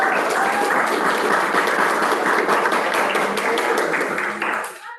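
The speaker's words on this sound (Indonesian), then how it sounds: "kasih aplaus dulu untuk 11 IPS 2 ya" A classroom of students applauds together, a dense, steady clapping that fills the room for several seconds before trailing off near the end.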